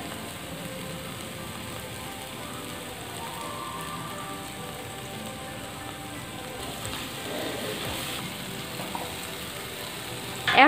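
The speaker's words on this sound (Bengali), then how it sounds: "এখন আমি এতে দিয়ে দেব সামান্য পরিমাণে সর্ষের তেল, যাতে আমি এটাকে ভালো করে ভাজতে পারি।" Beaten egg mixture frying in a little mustard oil in a pan, a steady soft crackling sizzle that stays even throughout, with no talking.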